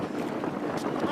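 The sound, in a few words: electric hire boat being driven on water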